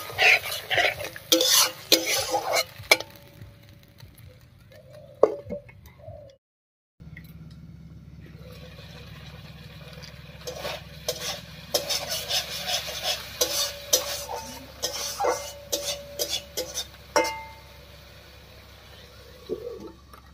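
Spice paste with tomato, mixed with water, being stirred and fried in a pan: scraping spoon strokes and clinks over a soft sizzle, with a short silent gap partway before steady stirring resumes, close and fairly loud.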